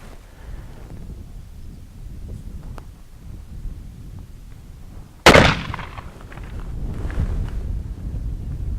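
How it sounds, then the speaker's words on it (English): A single loud, sharp gunshot from a .460 S&W Magnum revolver fired at a spam can outdoors, cracking out midway through steady wind noise with a brief echo trailing after. "Let me shoot the spam can."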